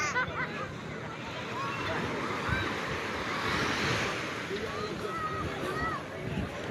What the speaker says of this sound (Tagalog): Naliligo na po yung mga bato sa dagat